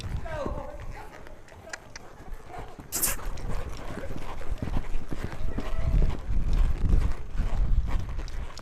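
A young quarter horse colt's hooves clip-clop on the ground in an irregular, uneven rhythm, moderately close and fairly quiet, building a little toward the end amid scuffing and background noise.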